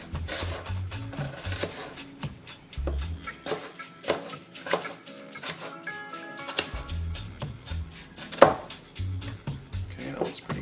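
A knife finely chops onion on a board for Jamaican mango salsa, giving rapid, irregular close-up taps and thuds throughout with some faint clinks between strokes.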